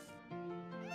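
A cat in the Harvest Moon video game gives a single short, clear, tonal meow, soft and close, with no talk around it.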